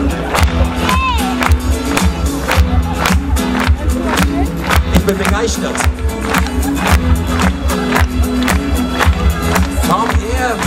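An audience clapping along at a live concert at the Niedersachsentag in Goslar: steady rhythmic claps over loud band music, with someone speaking briefly on the microphone.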